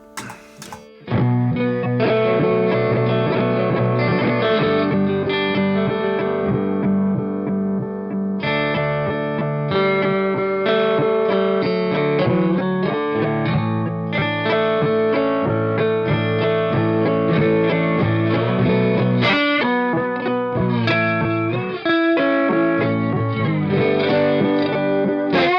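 An electric guitar runs through a Beetronics effects pedal, playing sustained distorted, effected chords and notes, loud and continuous with only brief breaks, and no talking.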